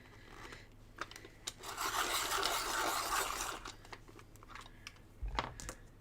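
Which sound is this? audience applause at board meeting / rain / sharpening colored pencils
sharpening colored pencils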